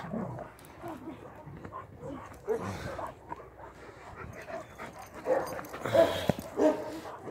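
A Kangal dog pulling on a leash whimpers and gives short yips and barks close by, mixed with people talking and shuffling outdoors.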